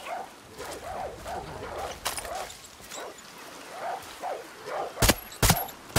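Dogs bark repeatedly in the open world of Far Cry 6, a string of moderately loud yelps and barks at varying distance over game ambience, ending in a few sharp gunshots.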